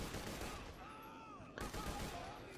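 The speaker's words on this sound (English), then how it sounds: "It fires 5 bullets in a horizontal pattern." Video game Pitchfork gun firing five bullets in a horizontal spread, heard as two quick loud clusters of gunfire shots with a dense, crackling blast sound.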